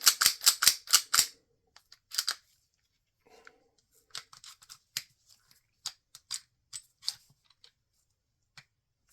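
Metal parts of an unloaded pistol being put back together, the slide fitted back onto the frame: a quick burst of five sharp clicks up front, then scattered lighter clicks and small ratchety taps with pauses, close and fairly quiet.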